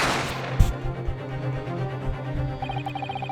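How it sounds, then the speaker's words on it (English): A gunshot sound effect from the video game The Great Ace Attorney Chronicles: a single sharp, loud bang early on, over a steady game music bed with no talk. "You heard the gunshot, you mean?"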